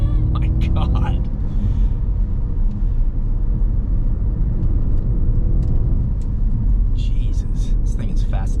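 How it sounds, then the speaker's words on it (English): A Mustang Mach E GT accelerating up a hill, a steady low road rumble and hum from inside the car, heard under continuous talking. "we'll do a little turnaround and acceleration here up the hill"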